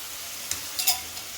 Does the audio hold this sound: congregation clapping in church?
no